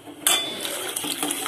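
A spoon stirs corn flour slurry into a pot of mixed vegetable soup, with a sharp metallic clink against the pot followed by soft, continuous scraping and swirling at close range.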